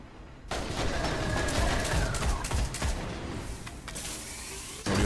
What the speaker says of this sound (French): Qui c'est qui nous tire dessus déjà?